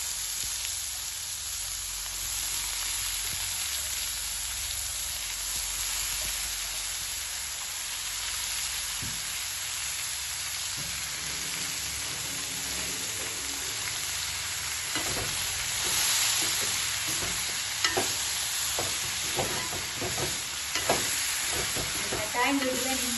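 Banana flower sautéing in a frying pan, a steady soft sizzle and crackle that runs throughout, with occasional stirring clicks and scrapes growing more frequent toward the end.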